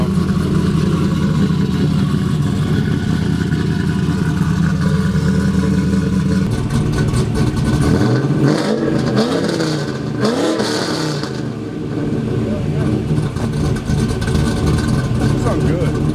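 A car engine revs at full throttle after a spark plug fix, running with no catalytic converter; a loud, sustained mid-range drone with rising and falling pitch sweeps in the middle, close and continuous.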